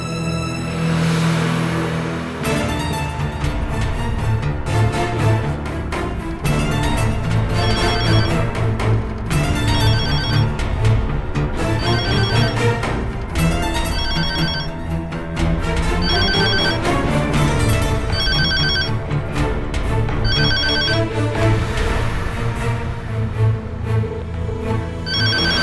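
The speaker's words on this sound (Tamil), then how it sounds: "ஃபோன் எடுக்காம இவ எங்க போய் தொலைஞ்சா?" A home telephone rings on and on with no one answering, in a Tamil television drama scene. Repeated ring bursts sound steadily over continuous background music throughout.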